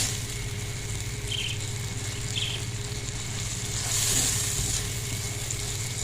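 Masala spices with a splash of water fry in a pan for an achari mirchi salan, a soft steady sizzle over a low background hum, with a couple of faint stirring touches and a brief louder hiss.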